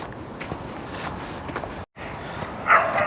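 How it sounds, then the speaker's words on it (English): Dogs bark and scuffle in a fight in a snowy winter forest. The sound is mid-distance and rough, with crunching footsteps throughout, a brief dropout, and a sharper burst of yelping near the end. "Dogs fighting in that one."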